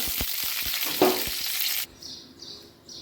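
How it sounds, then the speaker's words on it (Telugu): Green chillies sizzling and crackling in a spoonful of hot oil, a loud dense fry with a few sharp pops, then cutting out abruptly as faint bird chirps continue. "పచ్చిమిర్చి వేయించడం ముందు నూనె కొద్దిగా కొంచెం ఫ్రై చేసుకోవాలి"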